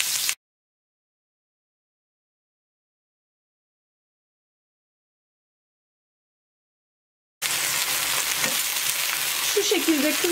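Small piece of beef dropped into hot oil in a pan, giving a steady broadband frying sizzle that starts after a long silent gap and runs loud to the end, with faint clinks near the close.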